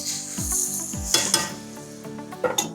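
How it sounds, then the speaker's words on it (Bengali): Goat meat for a Bangladeshi mutton bhuna curry being stirred and fried in a pan, a close sizzle broken by scraping spoon strokes and a few sharp clinks. "তারপর আমরা ক্লিন মাংসটা ঢেলে দিব, নাড়বো যতক্ষণ না কালার চেঞ্জ হয়।"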